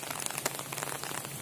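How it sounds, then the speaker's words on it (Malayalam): Rain falls at the Kariyathupara river ferry point near Kakkayam, giving a brief, dense patter of drops with fine crackling taps throughout. "മഴ തുടങ്ങി"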